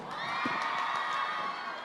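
At a grand fiesta in Eastern Samar, an outdoor audience cheers, shrieks and whoops steadily to vote for a contestant. The shouting mass stays loud and unbroken throughout.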